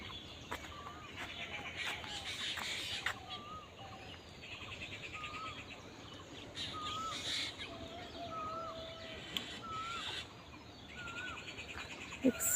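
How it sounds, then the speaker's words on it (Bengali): Birds call on a foggy morning, with scattered chirps and caws at a distance over a faint outdoor background and no nearby talking. "দেখছেন জোড়ায় জোড়ায় পাখি বসে আছে।"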